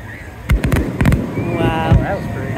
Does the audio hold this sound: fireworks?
yes